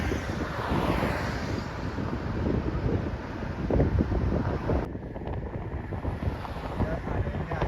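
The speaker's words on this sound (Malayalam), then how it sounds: "നല്ല കാറ്റുണ്ട്, നല്ല കാറ്റ്" Strong wind on Jebel Hafeet mountain buffets the microphone in a steady, loud roar with gusting surges, continuous through the whole stretch and close-up.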